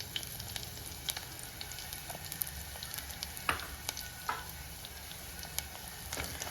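Small chopped coconut pieces frying in oil, a continuous bubbling sizzle with scattered sharp pops and occasional scraping from stirring, nearby and steady.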